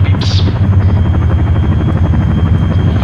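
Steady rotor chop of a helicopter in the video game Arma 3, loud and close, pulsing evenly throughout with a faint high whine on top.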